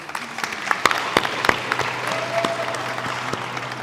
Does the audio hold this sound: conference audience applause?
yes